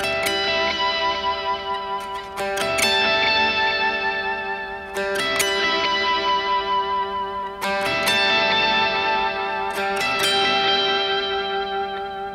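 An electric guitar plays a solo riff through a delay effect. Ringing, chiming notes repeat in a looping phrase, roughly every two and a half seconds, with echoing trails smeared over a sustained bright tone. It is loud and there is no talk.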